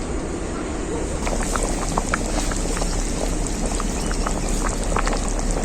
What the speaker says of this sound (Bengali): এরপর আমি এই ঝোলটাকে পাঁচ মিনিটের মতো ফুটিয়ে নেব খুব ভালো করে